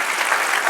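A church congregation at a Spanish-language service claps loudly for a short burst, dense and even with no pauses.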